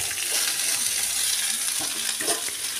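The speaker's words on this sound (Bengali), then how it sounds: "আলু পেঁয়াজটা আমার বেশ লাল করে ভাজা হয়ে গেছে।" Potatoes and onion fry in a pan with a steady, close crackling sizzle, a dense hiss that continues throughout with a few louder pops and stirring scrapes, no voices heard.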